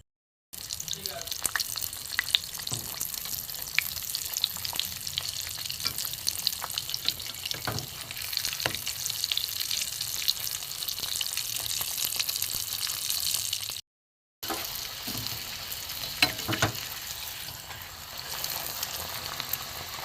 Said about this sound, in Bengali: তেল গরম হয়ে গেছে বন্ধুরা, আমি আগে থেকে পুরিগুলো বেলে রেখেছি। এবার একটা একটা করে ভেজে নেব।